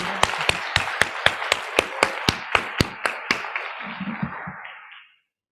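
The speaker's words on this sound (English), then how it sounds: "I can't help but give them another round of applause" A small audience claps for a school drama department's performance, with sharp, evenly spaced claps from a few people, fading out after about five seconds.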